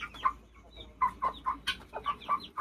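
Guinea fowl and their chicks cluck in a series of repeated calls, about eight clear clucks in a loose, uneven rhythm. They sound close and moderately loud, with no talk over them.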